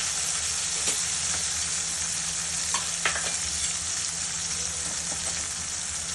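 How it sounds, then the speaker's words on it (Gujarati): Tomatoes sauté with onions and a little salt in a pan for a Gujarati ringan no odo, giving a steady soft sizzle with faint occasional stirring clicks, close by and with no talk. "હવે આપણે એની અંદર ટામેટાં એડ કરીશું।"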